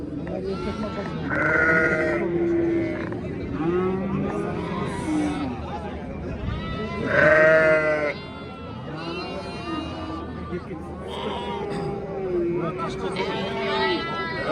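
Several sheep bleat loudly and repeatedly amid a busy livestock market crowd in Jizzakh, with people chattering in the background throughout.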